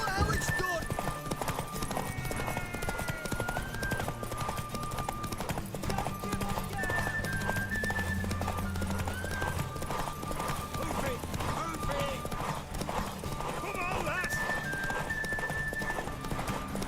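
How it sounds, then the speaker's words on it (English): Hooves clip-clop in a steady, rapid gallop as a horse runs in The Witcher, with occasional whinnies and a game score underneath, while voices talk over it throughout. "Want that horse, don't ya?"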